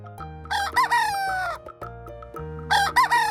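A hen gives a few loud, bright clucking calls in short bursts, with a pause in the middle, over a steady musical background.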